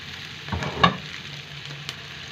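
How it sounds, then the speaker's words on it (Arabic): Onion sautéing with chicken gizzards in a pan: a quiet, low sizzle with a few soft stirring scrapes, one slightly stronger burst, heard close and fairly faint with no talking. "هنا بقى البصله مع القوانص ابتدت تتشوح"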